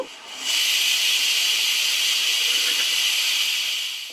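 Broad beans dropped into onions frying in oil, bursting into a loud, close, sustained hiss that holds steady for several seconds before easing slightly at the end.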